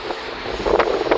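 Strong, gusty wind in the open at barangay Liyang, near a bridge, buffeting the microphone in rough swells that peak twice toward the end of a brief stretch.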